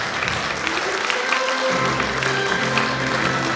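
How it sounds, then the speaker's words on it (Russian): Applause fills a concert hall at a Victory Day concert, as a choir is honored. Dense, continuous clapping from a large audience holds at a loud, even level throughout, with faint tones beneath and no talk. "Еще раз аплодисменты этого зала звучат для вас."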